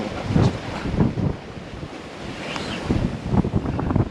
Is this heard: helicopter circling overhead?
no